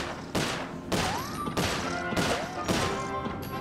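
Gunfire in the Sly Cooper: Thieves in Time video game, heard as four loud bursts of shots spaced about half a second apart, with game music and tonal effects running between them.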